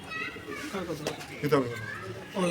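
Breeding pigeons at a loft coo softly in the background, beneath near, continuous human voices that dominate the short stretch.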